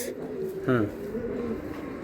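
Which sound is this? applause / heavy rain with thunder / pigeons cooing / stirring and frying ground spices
pigeons cooing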